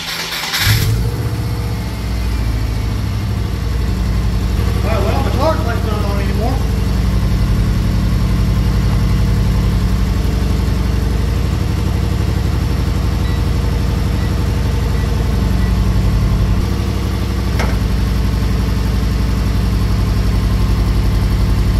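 A 2000 Subaru Forester engine running after an alternator change and a long sit, a loud steady idle with a brief rise in revs, continuous throughout without talk.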